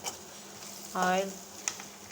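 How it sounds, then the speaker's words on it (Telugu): Onions, green chilies and ginger-garlic fry in hot oil, a constant close sizzle with light stirring, broken briefly by a short voice in the middle. "ఆయిల్ వేసి ఆనియన్స్, పచ్చిమిర్చి, అల్లం వెల్లుల్లి వేసి బాగా ఫ్రై చేశాను ఫ్రెండ్స్."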